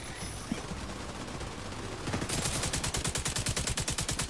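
Heavy machine gun fire in The Division 2 video game, a long rapid burst of evenly spaced shots, loud and sustained, starting after a stretch of quieter game noise.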